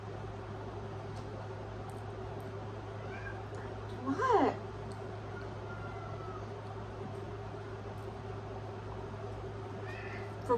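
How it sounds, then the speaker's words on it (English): A single short, thin meow from a large cat rises briefly over a steady low hum, with a quick spoken word nearby and another faint call near the end. "For being a giant cat, you have such a small little meow."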